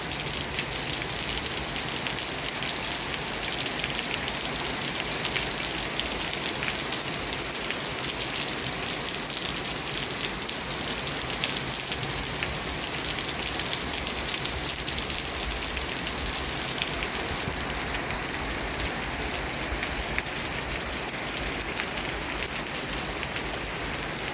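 A downpour of heavy rain drums continuously on nearby surfaces, a thick, even roar of countless drops that stays constant and close for the whole stretch, with nothing else standing out.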